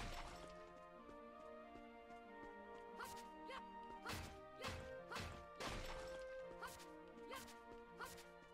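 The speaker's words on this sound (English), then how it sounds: "Let's go ahead and get some of these rocks smashed up." Rocks smashed up in a demo video game give a series of sharp cracking crunches, irregular and fairly close, over a quiet tonal music bed.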